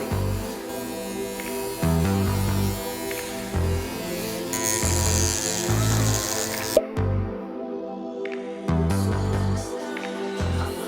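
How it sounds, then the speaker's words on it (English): A Rebel electric hair trimmer, not zero-gap, cuts hair on a client's head during a high taper haircut. The motor buzzes steadily and close by, with short pauses and changes in pitch as it moves through the hair. "I'm gonna be using my Rebel trimmer"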